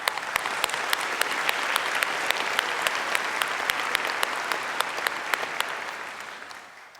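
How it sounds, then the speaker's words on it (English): Sustained applause from a large audience at a 2017 North Hennepin Community College graduation ceremony, dense clapping holding steady for several seconds before tapering off near the end, with no talking over it. "Please join me in applauding their efforts to reach tonight's ceremony."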